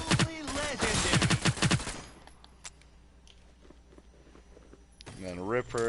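Submachine gun fire in a video game: a rapid burst of shots at the start that stops abruptly, leaving a quiet stretch before a voice speaks near the end.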